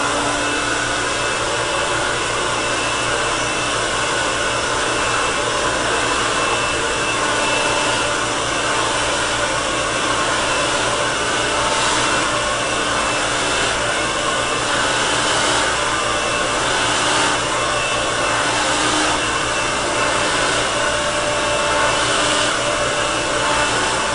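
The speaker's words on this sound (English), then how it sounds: "So now I'm going to blow dry one side of Cynthia's hair so you can see the difference between the curlier side and the straighter side" A salon hair dryer blow-drying curly hair at a Black hair salon in Atlanta, a loud, steady, close whooshing roar that runs unbroken throughout with no talking.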